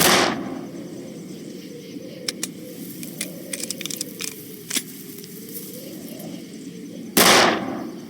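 Old rifle fire at a training range in the video game Darkest of Days: two loud, sharp gunshots about seven seconds apart, with quiet mechanical clicks and rattles in between.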